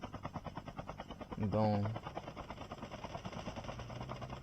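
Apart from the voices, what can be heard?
helicopter in video game Call of Duty Mobile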